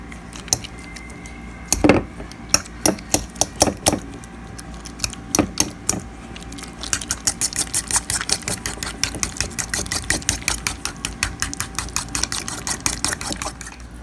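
Metal spoon clinking and scraping against a pot while lasagna meat sauce is stirred, irregular knocks early then a steady rapid rhythm of close, sharp taps.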